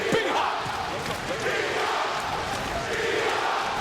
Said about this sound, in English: the crowd in Washington chanting B-Hop